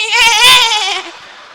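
A preacher at a Maulid Nabi gathering in Sukabumi mimics a young goat, giving a single loud, high, quavering bleat with a trembling vibrato that trails off after about a second.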